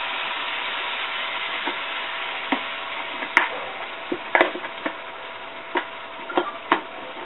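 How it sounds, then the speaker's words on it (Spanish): Cream goes into a pan of chicken and sautéed mushrooms, which sizzles in a steady close hiss, broken by scattered soft pops and clicks of stirring. "Ahora le echamos nuestra nata."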